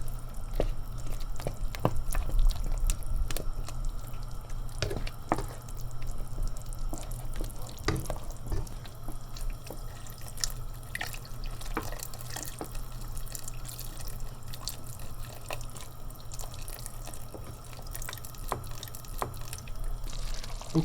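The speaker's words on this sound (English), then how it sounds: "it might need a little bit of water, which I'm going to add to it" Water trickling and dripping into a pot of Persian-style chicken curry, with irregular splashy drips and clinks over a steady low hum, close up and with no speech.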